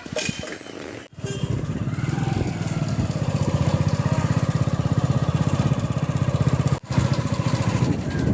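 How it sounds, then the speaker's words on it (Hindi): Motorcycles ride along a village road toward Bajitpur. A loud, steady engine drone runs close by for the whole stretch, with brief dips near the start and again toward the end. "ये अविनाश आ चुका है बाइक्स पे और अभी मैं और अविनाश जा रहे हैं बाजितपुर"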